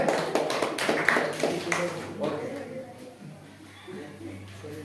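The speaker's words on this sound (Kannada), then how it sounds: "ಜೋರಾದ ಚಪ್ಪಾಳೆ. ಜೋರ ಚಪ್ಪಾಳೆ." A burst of clapping from a group of children in a classroom quiz event rises at first, then fades out as voices carry on talking in the room.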